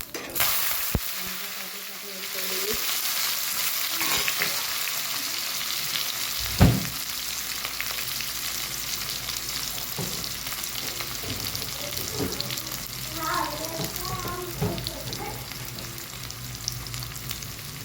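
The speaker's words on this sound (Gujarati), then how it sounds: "સાંભાર બનાવવા માટે આપણે એમાં રાઈ એડ કરીશું, જીરું એડ કરીશું" Mustard seeds, cumin and onion fry in hot oil for sambar, a loud, close, continuous sizzle with crackling pops, a thud and scraping stirs throughout.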